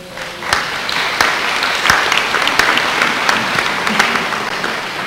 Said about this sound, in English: You want to applaud for them? Let's do it.